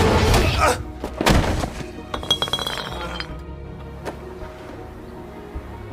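A glass bottle in a schoolyard fight in a Korean drama: heavy thumps and impacts early on, then a run of bright clinking and smashing glass, with a later scattered clink over a background bed.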